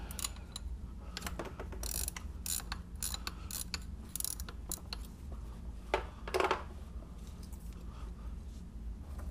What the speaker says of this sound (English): Next we can remove this carrier bearing here for the passenger side, or the right side axle. It's held in by 3 13mm bolts.